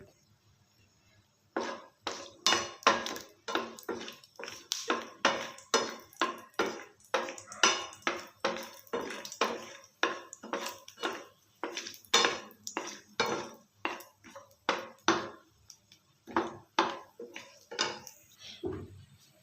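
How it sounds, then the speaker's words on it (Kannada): A metal spatula stirs chopped almonds frying in a pan for carrot halwa, giving a quick, regular series of close, bright clinks and scrapes against the pan with quiet between strokes. "ಸ್ವಲ್ಪ ಬಾದಾಮಿ ಕಲರ್ ಚೇಂಜ್ ಆಗೋವರೆಗೆ ಹುರ್ಕೊಳ್ಳೋಣ"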